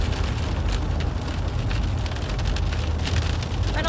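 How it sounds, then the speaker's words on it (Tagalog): Steady rain pours down onto a surface outside while a car is driving in the dark, a dense, even hiss that continues without a break for the whole stretch, with no voices. "hindi sunog yan. Ulan yan."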